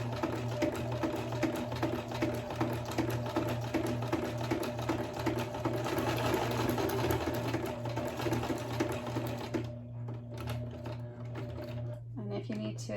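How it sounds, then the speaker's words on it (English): A sewing machine stitches through paper with a steady, fast, rhythmic mechanical hum, slowing slightly near the end; a quiet voice speaks intermittently underneath. "thread it through the sewing machine."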